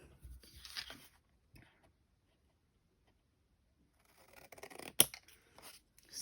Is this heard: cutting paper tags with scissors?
yes